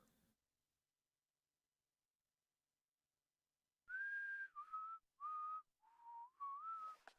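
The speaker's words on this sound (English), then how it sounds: "I love the use of like the whistle song in the game." A whistled melody from the video game Deadly Premonition 2 enters after several seconds of silence, a clear solo tune of sustained, gliding notes in short phrases, heard alone.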